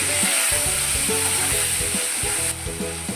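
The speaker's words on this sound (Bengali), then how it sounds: "এক চামচ আদা বাটা দিলাম মিশিয়ে ভালো করে নেড়ে দিলাম" Tomato and ginger paste frying in a pan while being stirred, giving a loud continuous close sizzle with repeated rhythmic scraping strokes of a spoon throughout.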